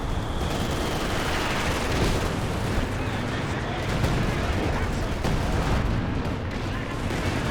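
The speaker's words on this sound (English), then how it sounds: "Oh no, Katyusha is coming down here" A Katyusha rocket barrage in Company of Heroes 2 pounds down from long range, a loud, continuous wall of overlapping blasts and rumbling impacts with no break.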